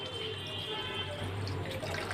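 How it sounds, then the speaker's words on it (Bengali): Water is poured into a pan of paneer curry, giving a soft, steady trickling and bubbling liquid sound at close range, low in level throughout. "এবার এতে আমি জল দিয়ে দেবো।"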